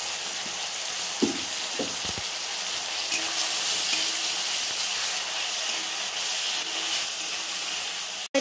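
Spice paste sizzles and fries steadily in a wok for a vegetarian kohlrabi curry, a loud continuous hiss with a few soft knocks of stirring, close up and without any talking.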